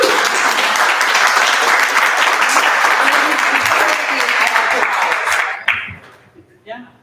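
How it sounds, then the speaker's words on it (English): Loud, dense audience applause fills a talk event for about five and a half seconds, then cuts off abruptly, leaving a few scattered claps and faint room murmur. "Can we give them a round of applause?"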